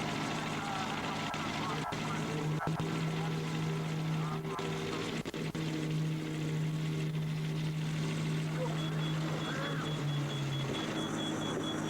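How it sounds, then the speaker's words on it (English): A helicopter drones steadily through recorded footage in a Soviet-era analog horror setting, a continuous low rotor and engine hum with a sustained tone, overlaid by occasional clicks and faint background noise. "We see a recording from a helicopter"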